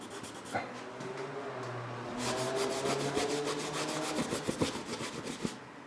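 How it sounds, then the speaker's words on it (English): Hard rubbing on a painted surface to build highlights, a close, rhythmic scratchy rasping of repeated strokes that grows busier and more rapid toward the end. "So I'm rubbing real hard here"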